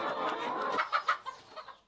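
Chickens kept as layers and broilers on an open, cage-free poultry farm in Gitaru, Kiambu County cluck nearby, a run of short rhythmic clucks from several birds, with no talk.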